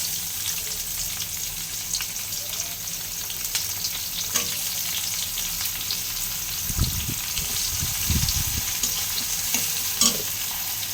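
Chopped onions fry in hot oil in a pan for a spicy tilapia curry, a steady broadband sizzle with occasional stirring scrapes and a few louder low bursts from the utensil near the end.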